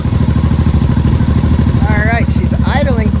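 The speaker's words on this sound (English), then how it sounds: "All right, she's idling quite nicely." A 1983 Honda motorcycle engine idles close and loud with a steady rapid pulsing beat, while a person talks over it near the end.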